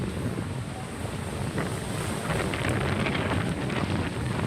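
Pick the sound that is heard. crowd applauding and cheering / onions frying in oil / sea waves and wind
sea waves and wind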